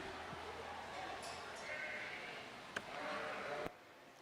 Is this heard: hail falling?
no